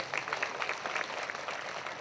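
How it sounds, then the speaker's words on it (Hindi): Congregation applauding at a Hindi church prayer meeting, a steady dense wash of clapping hands filling the whole stretch at moderate level, with no speech over it. "जोरदार ताली बजाइए परमेश्वर के लिए।"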